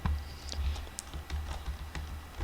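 Typing on a computer keyboard, a quick run of light, irregular key clicks close to the microphone, continuing steadily throughout with no talking.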